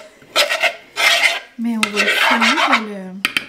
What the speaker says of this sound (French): il faut fouetter ça, mais genre fouetter avec ça